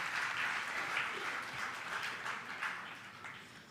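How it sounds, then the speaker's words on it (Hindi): An audience at a religious discourse claps in a dense, sustained burst of applause, with no voices over it. "दूसरों की बात सुनकर ताली बजाने में बड़ा आनंद आता है।"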